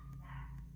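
Several dogs barking indoors in a short burst, fairly close and steady beneath a low background hum, with no talk over it.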